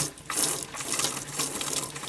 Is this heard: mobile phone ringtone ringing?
no